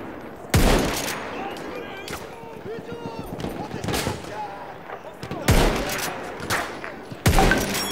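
Heavy bursts of gunfire and explosions in the video game Battlefield 1, loud sharp blasts spaced a few seconds apart over rumbling battle noise, with someone talking in German between shots.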